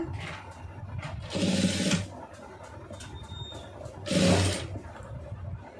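A sewing machine stitches a round neckline, running in two short bursts of about half a second each, separated by quieter background hum.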